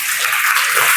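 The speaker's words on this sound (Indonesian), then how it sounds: "Kita tepuk tangan dulu untuk Ella." Brief classroom applause for a student, a dense burst of clapping from many hands filling the whole second at steady strength.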